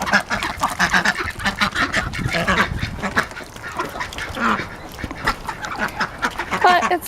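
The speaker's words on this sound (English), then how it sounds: "the ducks are very happy to see it" Ducks in a garden quack and chatter eagerly over fresh kale, a dense overlapping chorus of loud, close honking calls with no pauses.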